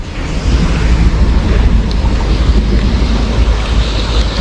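Floodwater rushes after heavy rain in Poladpur, a loud, steady broadband roar with no pause, close to the microphone and mixed with wind buffeting.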